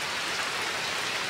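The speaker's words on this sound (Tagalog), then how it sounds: "Ang lakas ng ulan dito." Heavy rain pours down steadily, a dense, loud, unbroken hiss of water on surfaces with no voices.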